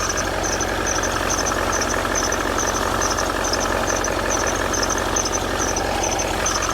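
Range Rover L322 4.4 TDV8 diesel from 2012 idling steadily up close, with a regular light ticking squeak from the front-end belt tensioner repeating over the constant engine drone.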